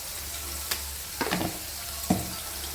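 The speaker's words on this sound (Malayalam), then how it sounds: "ഇത് നമ്മുടെ ഉള്ളിയെല്ലാം ഇവിടെ മൂത്ത് വന്നിട്ടുണ്ട്, നന്നായി വഴന്നിട്ടുണ്ട്." Onions sautéing in a pan for a black-eyed pea curry, giving a steady soft sizzle with a few brief stirring scrapes and clinks, close and alone without talk.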